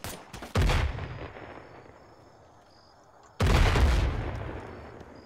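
Machine gun fire in Arma 3 comes as two loud, close bursts of gunfire, each cracking out sharply and then rumbling away, separated by a few seconds of quieter background.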